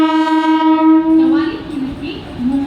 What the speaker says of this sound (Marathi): मुंबई छत्रपती शिवाजी महाराज टर्मिनसला जाणारी ही लोकल थोड्या वेळा प्लॅटफॉर्म क्रमांक 2 पर